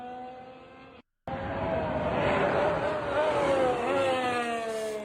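A Red Bull Formula One car engine at shakedown testing whines loudly and continuously, its sharp tone wavering and climbing through gear changes, after a short silent break near the start.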